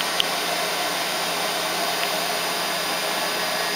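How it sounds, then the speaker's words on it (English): A remote control toilet's built-in dryer blows air in a steady, continuous hiss, close by and unbroken. "And then you can get the hair dryer out. Well, just the dryer"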